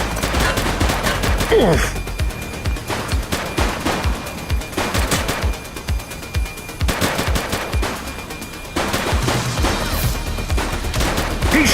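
Rapid gunshots ring out in loud, repeated bursts separated by short pauses, with one brief grunt from a voice between volleys.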